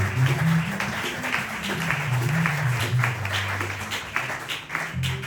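A congregation at a teen worship service applauds for Jesus, a dense, steady wash of clapping that fills the room for several seconds without letting up.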